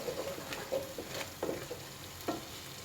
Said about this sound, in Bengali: আজই আমি একটু কষিয়ে নেব মশলাটা দেখুন আমার হালকা কষানো হয়ে গেছে